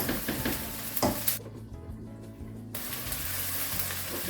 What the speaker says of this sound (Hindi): अभी हम इसको पकाएंगे जब तक ये बैगन सॉफ्ट नहीं हो जाए